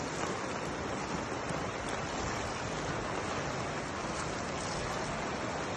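Water rushes steadily and continuously through a rural water collection system, a dense, even broadband wash with no breaks, close to the microphone and with no voices.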